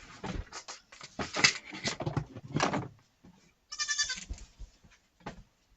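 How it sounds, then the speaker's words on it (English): Baby goats bleat in several short, high bursts close by, with quiet pauses between the calls and no talking. "the little sounds you hear are my baby goats"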